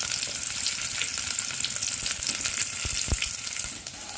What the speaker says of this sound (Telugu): ఆనియన్ వేసుకొని బాగా కలుపుకోవాలి